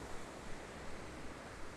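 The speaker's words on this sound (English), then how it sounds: "You are standing on the beach. Your feet are washed by icy water and the sand is dancing between your toes." Ocean waves washing onto a beach in a sound installation, a steady broadband surf wash with gentle swells, soft and continuous throughout with no voices.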